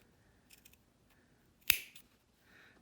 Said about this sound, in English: These clippers are pretty sharp though, so I'm